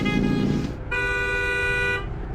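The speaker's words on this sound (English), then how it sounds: "Do you really have to honk like an idiot every time he passes you?" A car horn sounds twice: a short honk, a brief gap, then a longer sustained blast, loud and close over low road and engine noise.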